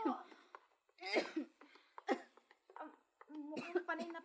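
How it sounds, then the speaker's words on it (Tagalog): Someone coughs in several separate rough bursts, fairly close and quiet, with short pauses between them and a throaty, voiced quality. "Mukhang panay na ang ubo ninyo ah."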